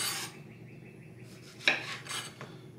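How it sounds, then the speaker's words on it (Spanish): A knife cuts tomatoes on a board for a Mexican shrimp cocktail: a rasping slice at the start, then a sharp tap and a few short scraping cuts, close and fairly quiet. "Ahora vamos a cortar los jitomates"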